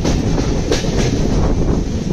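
Onboard the LTT Superfast Express as it runs through Nidadavolu Junction without stopping: a loud, unbroken rumble of wheels and carriages with faint rhythmic clatter throughout.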